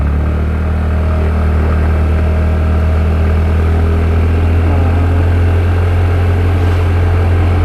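A scooter's engine drones steadily and loudly close by as it is ridden, a constant low hum with a faint higher whine, unbroken for the whole stretch and with no voices.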